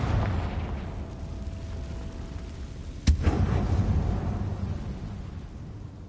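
A Confringo fire spell goes off in a Harry Potter video game inside a closed-off mine: one sharp blast midway, fairly loud, with a brief crackling tail over a steady low rumbling ambience.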